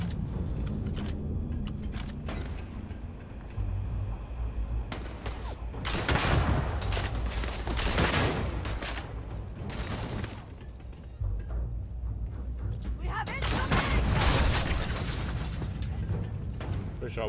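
In the video game Starfield, a grenade explodes right underfoot amid bursts of gunfire, with loud booming blasts and crackling volleys rising and falling over a low ambient hum and occasional speech.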